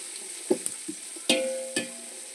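Sliced onion is tossed into a hot pan to fry, giving a short sizzle broken by a few sharp clinks and scrapes of stirring, close and fairly quiet.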